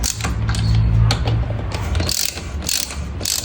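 Rapid ratcheting clicks from a ratchet with a size 12 socket loosening the mounting bolts of a car AC compressor on a Perodua Axia, close and loud, in quick bursts with brief pauses between strokes.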